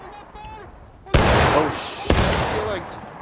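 Gunfire in a video game rings out as two sharp, loud blasts about a second apart, each trailing into a noisy rumble, while a player's voice exclaims over the action.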